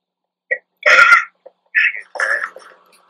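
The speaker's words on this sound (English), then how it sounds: "Every video you cough." Several short throaty coughs and throat-clearing bursts from a gamer during a Minecraft session, close to the microphone, arriving in irregular clusters over about three seconds with brief gaps between them.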